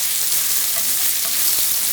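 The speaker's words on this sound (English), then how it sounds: "So I'm going to brown up this sausage and then move on to the next step." Sausage browning in a pan on the stovetop, a steady close sizzle and crackle of fat running evenly throughout with no voices.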